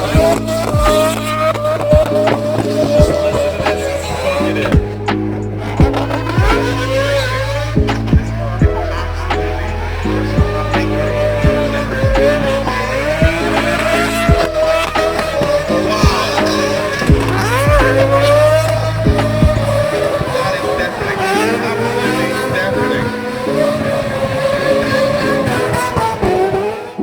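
James Deane's four-rotor Mazda RX7 drift car in the Assetto Corsa VR racing game, its engine screaming loud and continuously, revving up and down with tire squeal and music playing underneath.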